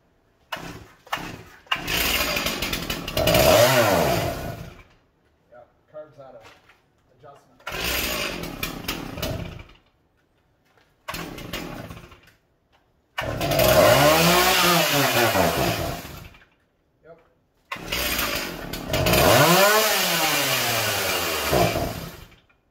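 A Stihl 036 chainsaw being revived after repair roars in several loud, close bursts of revving, cutting out into silence between runs; someone speaks at points.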